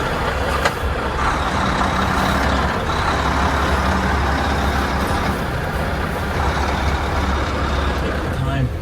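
A truck hauling a 20 ft container reverses and maneuvers in a yard, giving a steady, loud engine rumble with hissing air-brake bursts and faint intermittent beeps throughout.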